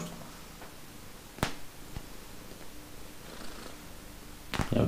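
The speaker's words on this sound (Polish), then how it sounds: "Nie wiem, czy będzie słychać mruczenie." A cat purrs softly and steadily at close range, with a couple of sharp clicks or taps breaking through the quiet indoor background.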